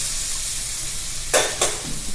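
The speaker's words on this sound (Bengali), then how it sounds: "এখানে অল্প জল দিয়ে ভালোভাবে মিশিয়ে নিয়ে" Pieces of mutton being cooked for kosha get stirred in a pan with a splash of water, giving a soft steady sizzle with two brief louder hissing bursts near the end.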